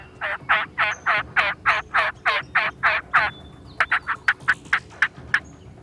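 Loud wild turkey gobbles in a rapid series of about ten, followed by shorter, sharper hen yelps and clucks, close by in an otherwise quiet outdoor setting.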